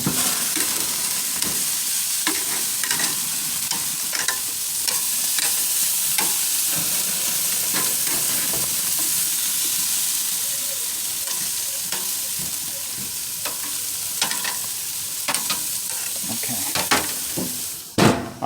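Pork ribs and corn grilling on a barbecue, a dense continuous sizzle and crackle with scattered pops and occasional scraping, close and fairly loud throughout.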